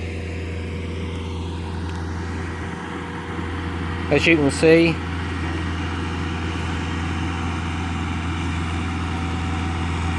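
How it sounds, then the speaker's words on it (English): Steady low engine drone of a tractor spraying a rapeseed crop in a field, running in the background throughout, with someone briefly speaking over it. "the noise you can hear in the background is the farmer spraying his"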